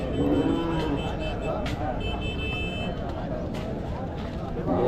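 Cattle lowing at a busy cattle market in Madrapalli, several loud moos rising over crowd chatter and voices, with a short beep now and then.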